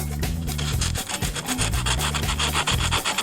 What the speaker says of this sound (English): I'm going to take some old sandpaper